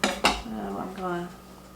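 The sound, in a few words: stirring food together in a bowl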